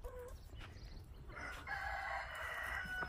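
A rooster crows at a zoo, one drawn-out crow rising over outdoor ambience with faint clucking and a low background hum.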